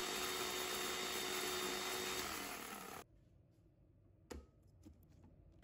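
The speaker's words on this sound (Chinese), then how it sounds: "按启动键开始磨成粉，这样磨出来的花椒粉更细" An electric grinder milling Sichuan peppercorns into fine powder runs as a loud, steady whir for about three seconds, then cuts off, leaving faint clatter and a single bump.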